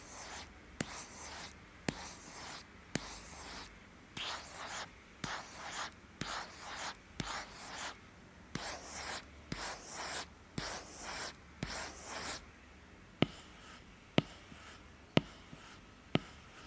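Stylus pens stroke across textured matte and nano-texture tablet glass in a series of short, scratchy, close-up strokes, each ending in a small tap, repeated about a dozen times.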